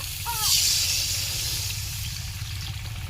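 Water hitting a pan of fried spice paste made with salt, turmeric, chilli and coriander powder, giving a loud close burst of hissing steam that slowly eases off over a few seconds.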